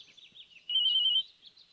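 A telephone rings indoors with a short electronic trill, faint at first and then swelling into one brief louder burst before fading, with no one speaking.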